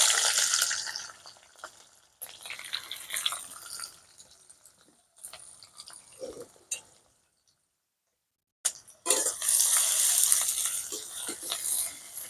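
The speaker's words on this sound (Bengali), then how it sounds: "এবারে আমি পেঁয়াজটা ভেজে নেব।" Chopped onions fry in hot white oil for a Bengali egg korma, giving a loud, close, broadband sizzle that fades, drops to near silence for about a second, then returns strongly.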